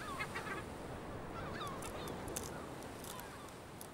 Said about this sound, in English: Sharing what little there is with the yellow-legged gulls has its advantages.